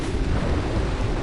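Steady rain with a low rumble of thunder in Rock Village, Jak and Daxter video game, a dense continuous wash of noise that stays loud and even throughout, with no voices.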